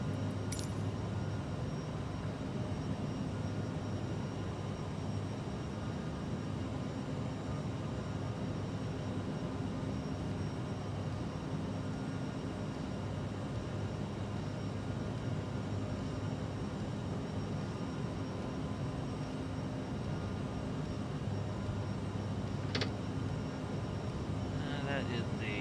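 Steady, continuous drone of an airliner's engines cruising in a flight simulator game on a Key West to Atlanta route, with a few faint clicks near the end.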